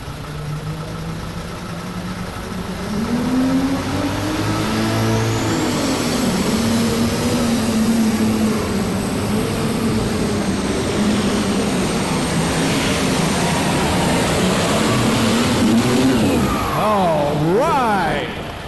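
Pulling tractor roaring through a full-pull run at the 1999 National Farm Machinery Show, a loud sustained engine drone that shifts in pitch as it works down the 244-foot track, with an announcer talking over it.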